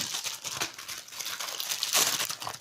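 Paper packaging around an item from a Shein parcel being torn and crinkled open, a continuous close, fairly loud rustling and ripping with brief sharper tears, no voices.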